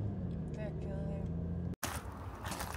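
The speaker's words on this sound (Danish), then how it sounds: "Der er eddermame mange biler." Cars pass along a busy road in Denmark, a steady low rumble of traffic with a voice talking over it, then a louder broadband whoosh of a vehicle going by after a brief cut.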